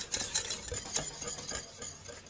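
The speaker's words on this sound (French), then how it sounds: "On va continuer à remuer pendant 1 minute ou 2 pour faire redescendre un petit peu en température." A spoon stirs orange cream for a meringue orange tart in a saucepan off the heat, making soft, irregular scraping and clinking strokes close by with no talk.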